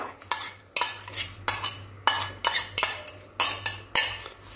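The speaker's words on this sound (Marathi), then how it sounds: "तर आता आपल्याला हा पालक याच्यात घालायचा आहे" Steamed spinach paste being poured into a pan for cheese green pav bhaji and stirred in, heard as a run of repeated, fairly close scraping and clinking strokes of a utensil against the pan with a low hum beneath, no talking.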